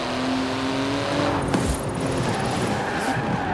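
A 3.8-litre flat-six twin-turbo 700-horsepower car in Forza Horizon 4 roars loudly, its engine note shifting as the tires briefly squeal partway through.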